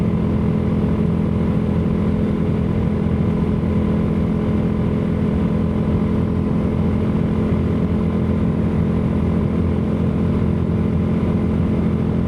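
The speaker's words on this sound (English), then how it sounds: "This thing is the engine just sings and it opens up and goes." A Royal Enfield Himalayan 450 motorcycle engine pulling hard around 5,000 RPM while cruising near 65 mph, a loud, constant, close engine roar with wind rush and no letup throughout.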